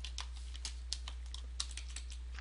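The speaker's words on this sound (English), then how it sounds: "I'm having trouble typing today." Typing on a computer keyboard produces a quick, irregular patter of close key clicks over a steady low hum, with no voice.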